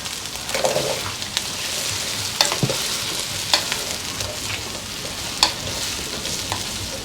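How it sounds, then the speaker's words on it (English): Garlic frying in oil in a pot gives a steady sizzle and crackle, close and lively, while a spoon stirs through it with occasional scraping knocks against the pot. "I'll give it a stir."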